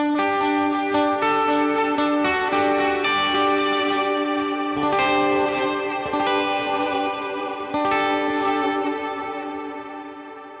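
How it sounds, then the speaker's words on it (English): Sustained electric guitar chords through a Fractal FM9 with stereo amps, drenched in long, washy reverb, notes ringing and blurring together before trailing off slowly at the end. "And then we have long reverb."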